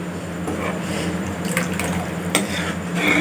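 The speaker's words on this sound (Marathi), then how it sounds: "आणखी आपण एक वाटी भरून पाणी घालून घेऊ" A bowl of water is poured into a bottle gourd kofta gravy in a pot, a steady close splashing flow lasting a few seconds with no talk.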